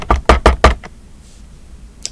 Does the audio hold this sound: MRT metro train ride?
no